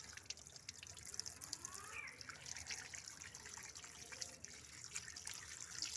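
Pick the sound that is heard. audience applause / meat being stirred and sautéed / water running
water running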